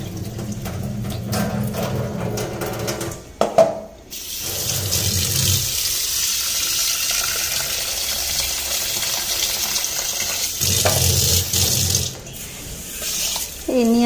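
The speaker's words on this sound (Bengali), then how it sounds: "কয়লাগুলি নোংরা হয়েছে, কয়লাগুলি ধুইয়া দিলাম।" Charcoal pieces from a household water filter rinsed under a running tap, water splashing and gushing steadily into a sink with brief clinks and pauses partway through.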